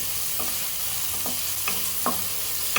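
Paneer pieces fry in ghee until light brown, making a dense, steady sizzle with a few soft stirring scrapes close by, and no talking.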